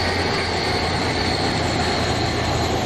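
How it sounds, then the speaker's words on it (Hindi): A train locomotive in the MSTS simulator, running the Tippu SF Express from Bangalore to Mysore, gives a dense, steady rumbling roar with a constant engine drone, loud and unbroken throughout. "काफ़ी मतलब देर से यार छगिंग कर रहा है यार"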